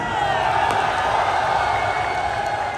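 A large crowd at an Imran Khan rally during the Azadi March applauds and cheers, a dense, loud, continuous roar of clapping and shouting.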